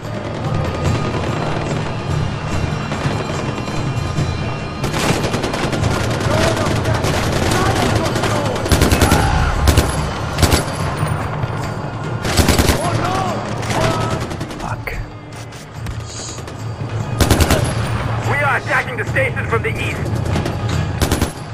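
Gunfire in the video game Far Cry 4, repeated bursts of automatic weapon fire and heavy booming shots that crackle over a constant low rumble, loud and close, in irregular clusters throughout.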